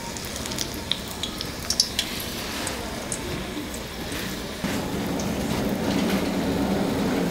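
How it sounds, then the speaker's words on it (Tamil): Batter-dipped raw plantain slices drop into hot oil as bajji, a dense, loud sizzle with sharp crackles that swells into a heavier bubbling roar midway through. "இப்படி நம்ம சீவின வாழைக்காயை இந்த பஜ்ஜி மாவில் டிப் பண்ணி போட்டுக்கலாம்."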